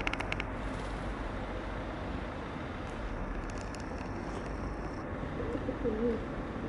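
Pigeons cooing nearby, low soft burbling coos rising near the end over a steady outdoor hum of distant traffic, with a brief clatter at the start.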